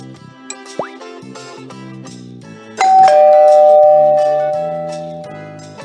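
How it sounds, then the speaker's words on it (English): A ringing doorbell chime in a children's video game sounds over light background music, its tone ringing out and slowly fading over a few seconds. "The doorbell rang."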